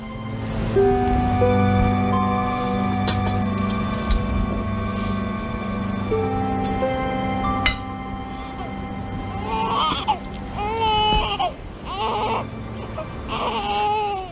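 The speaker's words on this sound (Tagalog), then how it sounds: "May batang umiiyak." Infant crying and wailing in repeated rising sobs, continuous and fairly loud throughout, with music or other sound underneath and the cries growing more strained toward the end.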